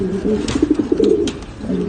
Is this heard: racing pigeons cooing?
yes